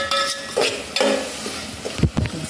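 Ingredients for tomato rice stirred together in a pan, a few close, distinct scraping strokes with a light sizzle between them and some soft clinks of the spoon against metal.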